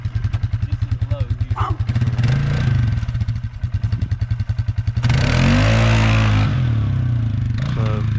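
A 2020 Polaris Sportsman 450 ATV with a clutch kit idles with a rapid putter, then accelerates loudly from takeoff in low gear, its engine rising and falling under a voice.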